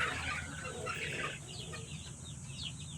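A group of 2.5-month-old free-range chickens clucking and chattering, steady and fairly close, with soft overlapping calls and no voices.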